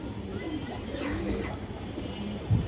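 An old-breed black-necked pigeon coos softly in low, rolling murmurs, with a louder thump near the end and faint background noise.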